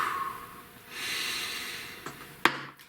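Someone breathes slowly in and out, a soft long exhale followed by a sharp snorting intake and a quick gasp near the end, close and quiet with no talking.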